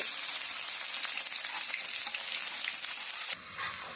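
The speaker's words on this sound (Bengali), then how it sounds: "এখন আমি পেঁয়াজ কুচি দিয়ে দিচ্ছি" Chopped onions hitting hot oil with whole garam masala and cumin set up a loud, dense, continuous sizzle that drops slightly in intensity near the end, heard close up with no voices.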